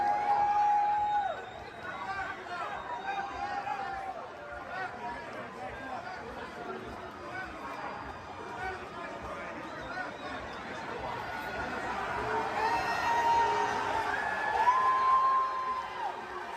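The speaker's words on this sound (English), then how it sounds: "So it sounds like he's getting booed" Crowd noise at a football game, broad murmuring and jeering from a large audience directed at Trump, with a sharper whoop rising out of the mass near the end; steady and fairly distant throughout.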